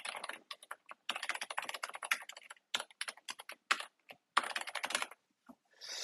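Rapid typing on a computer keyboard, clusters of close, crisp key clicks in bursts with brief pauses, alone in a quiet room.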